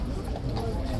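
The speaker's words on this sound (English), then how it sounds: "Even more police horses." Police horse hooves clip-clop steadily on hard pavement, close by, with a busy street murmur underneath.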